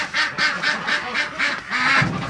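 Several ducks quack repeatedly inside a barn on a bitterly cold, windy day, loud, close calls following one another in a steady run with no one talking.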